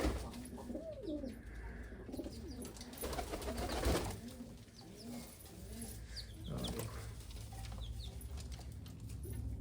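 Pigeons cooing repeatedly at close range, low throaty calls overlapping through a steady background hum, with a few clucking notes mixed in.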